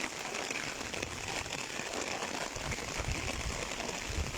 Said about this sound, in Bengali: বৃষ্টিটা বাড়তেছে।